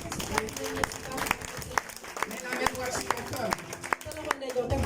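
Church congregation clapping in praise during a French-language service, a dense run of sharp hand claps with rhythmic accents over crowd voices and music, steady and fairly loud throughout.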